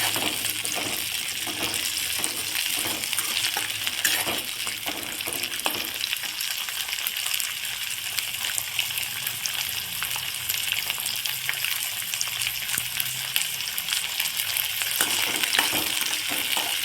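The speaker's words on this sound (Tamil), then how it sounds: "வெங்காயம் இந்த எண்ணெயில் வெந்துடணும்" Onions frying in oil, sizzling and crackling steadily in a pan, with occasional stirring scrapes, continuous and fairly quiet.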